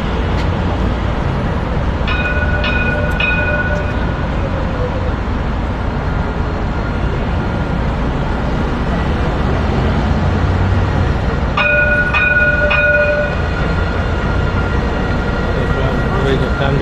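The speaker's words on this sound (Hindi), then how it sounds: "आप देखिए सामने से आ रहा है दुबई का ट्राम" A Dubai tram passes on the street near JBR Walk by Dubai Marina, its steady rumble mixed with heavy traffic and city noise, with short tonal signal chimes sounding twice while someone talks throughout.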